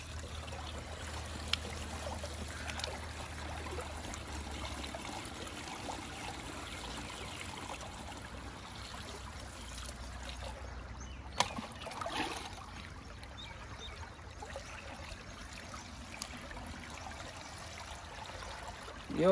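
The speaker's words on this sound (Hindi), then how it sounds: "अभी इसके अंदर हमने फिर पानी फुल कर लेनी टैंकी को" Water runs steadily into a pesticide sprayer tank being filled for an onion field, a continuous trickling, splashing flow at moderate level with a few knocks and bumps partway through.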